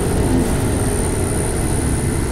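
A pickup truck pushes through a ground blizzard on a farm road, its engine a steady low rumble under a continuous roar of wind and blowing snow, loud and unbroken throughout.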